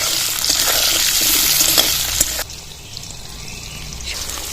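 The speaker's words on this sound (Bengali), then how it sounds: "ভাজার সময় আপনারা লবণ দিয়ে ভাজবেন" Loud, steady crackling sizzle of salted potatoes frying in hot oil, which drops abruptly to a quieter, softer hiss partway through.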